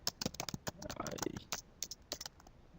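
Fingers type a letter on a computer keyboard, a close, irregular run of sharp key clicks with short pauses between bursts.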